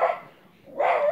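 A dog barks twice, close and fairly loud, with a short quiet gap between the two yelps and no talking.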